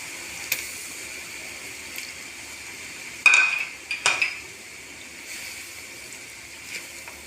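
Chicken tipped into a pot of cooked-down spices, a couple of sharp splashy clatters and a brief wet sizzle over low kitchen background, with no voices.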